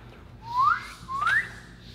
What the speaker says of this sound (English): your whistle was way better than mine